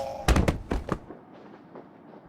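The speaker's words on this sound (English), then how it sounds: "Hope no one heard the explosion." Explosion in the video game Lost Horizon: a cluster of four sharp, booming blasts in quick succession, loud and close, followed by a fading rumble and quiet debris noise.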